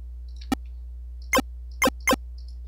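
Chiptune PSG arpeggio mimicking the Mario fireball effect: four short, bright, buzzy bursts, one alone and then three in quick succession, over a steady low hum.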